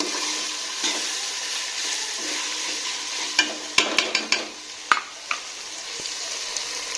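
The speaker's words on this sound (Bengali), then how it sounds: "এটা এখন আবার হালকা ভাজবো" Broken wheat (dalia) dry-frying in a pan for a sweet pulao, with salt and black pepper added: a steady close hiss of sizzling under scattered sharp clicks and scrapes of stirring, with no talking.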